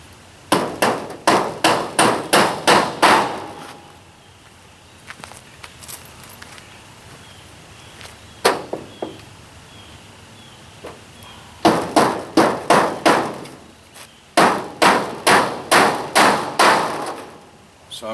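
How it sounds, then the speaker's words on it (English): Nails are hammered into metal flashing on a tiny home in quick bursts of sharp, close blows, with a pause and a few scattered knocks between the runs. "So I'm just gonna finish nailing it on all the way along."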